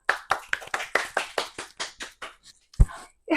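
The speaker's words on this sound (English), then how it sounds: "Everybody give a round of applause." A dozen crisp, close hand claps from a small group at a casual cooking-show taping, starting quick and gradually slowing before trailing off, followed by a short thump and a brief voice.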